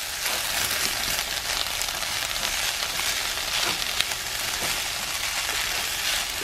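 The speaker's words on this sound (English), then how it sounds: "And then I'm going to go in and stir it up a bit more" Fried rice with spam and vegetables sizzles loudly in a pan while being stirred and scraped, a continuous dense crackling hiss with soft scraping pulses, no voices.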